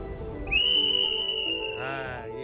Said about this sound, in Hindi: सीटी कौन बजाया